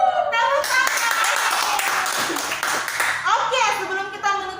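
Children clap their hands together in a dense, steady burst of applause during an online kindergarten lesson, with voices talking over the clapping.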